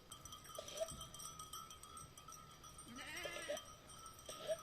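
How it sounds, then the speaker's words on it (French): Sheep are being brought in on a hike, scattered bleats sounding at a distance along with faint clinking bells and the rustle of movement outdoors. "Et maintenant on rentre des moutons là."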